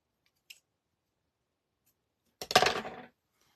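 Scissors snip through excess craft string on a stacking-pumpkins snowman kit, one faint tick followed by a single short, crisp cut close by, otherwise silent.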